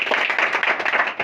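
A short burst of clapping from students in a maths class after a correct answer, quick overlapping hand claps, close and fairly loud, lasting about a second.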